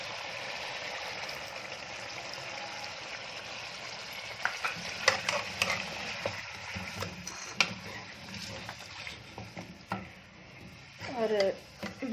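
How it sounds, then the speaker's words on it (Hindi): Lemon juice and beaten yogurt go into a sizzling chicken karahi with black pepper, a soft frying hiss under stirring and scraping knocks, fairly quiet, with a brief voice near the end. "तो अब हम इसमें ये लेमन जूस ऐड करेंगे और साथ ही जो बीट की हुई दही है वो ऐड कर देंगे।"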